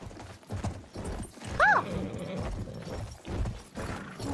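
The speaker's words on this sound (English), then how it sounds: "I'm on a horse." Horse hooves clip-clop in the video game Battlefield 1, a steady mid-level trot under game noise, with a short whinny-like cry partway through.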